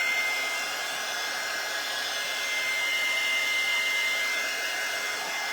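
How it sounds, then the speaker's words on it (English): A hair dryer blows steadily and close by for several seconds, a constant high airy whoosh with no voices over it, used to dry a Mother's Day craft arrangement. "I can see that it dries fast with the dryer."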